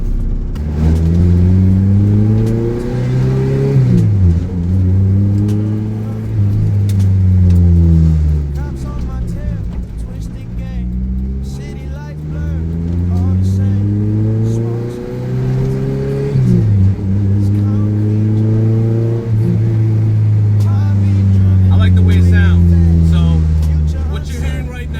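A K-swapped Lotus with a 3-inch exhaust revs hard through repeated gear pulls, rising in pitch, dropping at each shift, then climbing again. The exhaust is loud and close.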